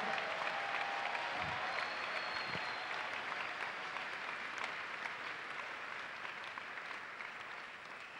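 A church congregation claps together in steady, sustained applause, a continuous wash of many hands that sounds somewhat distant in the hall and holds evenly for several seconds.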